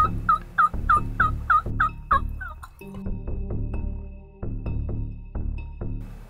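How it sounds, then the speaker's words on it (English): Wild turkey toms gobble off to one side, a quick series of rattling gobbles followed by further bursts, moderately distant and clear with no talk. "There's a whole bunch of toms and they're gobbling off to our left."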